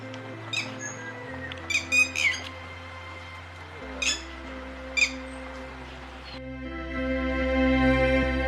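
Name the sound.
bird calls in Ranthambore, Indian pitta or red-wattled lapwing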